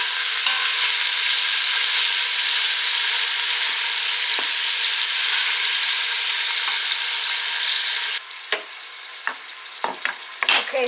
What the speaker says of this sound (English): and I'm going to add the vegetables